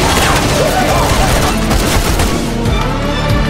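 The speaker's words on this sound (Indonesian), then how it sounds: "Dia kemudian menembak semua temannya." Gunfire in a film thriller, a dense burst of shots with booms running through the whole stretch, loud and continuous, mixed with film score and some voices.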